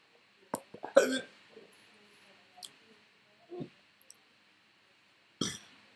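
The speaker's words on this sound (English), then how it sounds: "I've got hiccups at possibly the worst time" Someone with hiccups during a live football build-up stream, a few short sharp jerky catches spread irregularly through near-silence, close to the microphone.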